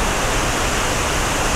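A rushing alpine mountain stream roars steadily, a dense, loud and constant wash of white water close by, with no voices.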